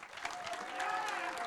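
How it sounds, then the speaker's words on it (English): A conference audience at All Day Hey! 2024 applauds a speaker coming on stage with a steady, dense burst of clapping and some crowd noise, close and sustained throughout. "Big, giant round of applause, please."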